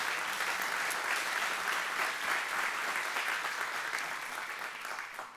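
A church congregation claps loudly and continuously during a Spanish-language sermon, a thick, even wash of applause that carries on for several seconds and tapers slightly at the end.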